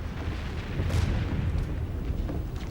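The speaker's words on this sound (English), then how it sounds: "No, Mr. Bracegirdle. That is cannon." Distant cannon fire from French artillery rumbles in deep, low booms across the countryside, a dull continuous thunder with a few heavier thuds and no voices.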